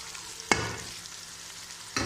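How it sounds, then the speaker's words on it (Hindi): Minced meat keema with kadai masala, turmeric and salt frying in a kadai, a steady sizzle broken by two sharp scraping stirs, close and fairly loud, no talk. "इसको अच्छी तरह हम मिक्स करके फ्राई करेंगे।"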